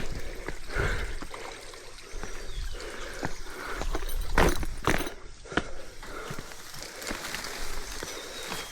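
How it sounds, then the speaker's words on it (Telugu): Water flowing down a stream, a continuous broadband rush with scattered splashes and knocks, steady and fairly close. "ఇక్కడ నుంచి వాటర్ ఫ్లో అంతా వెళ్ళి"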